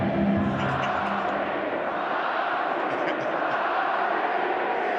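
A rugby stadium crowd at a Bulls versus Benetton match sends up a steady, dense roar with scattered shouts, filling the space evenly throughout, while a commentator's voice talks over it.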